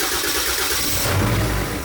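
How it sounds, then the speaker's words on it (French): A Jeep Grand Cherokee engine cranks and catches partway through, then settles into a loud, close, rumbling idle with no voices. "il galère pas à démarrer"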